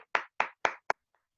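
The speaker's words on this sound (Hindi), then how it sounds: "मैं चाहता हूं कि शारदा मैम जी के लिए जोरदार तालियां तो होनी चाहिए।" A few sharp claps, about four, spaced evenly and close by, fading into a couple of faint taps; sounds like a small group clapping rather than full applause.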